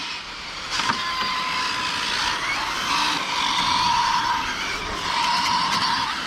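An FTX Supaforza GT 1/7-scale RC car drives and corners, its high motor whine rising and falling with tire noise and a scrubbing skid, steady and fairly loud for several seconds.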